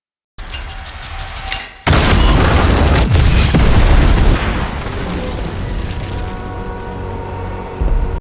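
A sudden, loud explosion bursts after a short quiet lead-in, followed by a long, rumbling roar that slowly fades while debris-like crackles continue.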